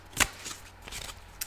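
A deck of tarot cards is shuffled close up during a card reading, giving soft riffling bursts, one sharper flick followed by quieter rustles and a final short snap.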